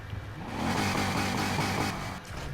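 A V8 engine in the video game Need for Speed Heat revs hard and holds a loud, steady roar with a deep rumble before easing off near the end.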